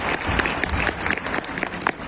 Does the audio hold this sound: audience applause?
yes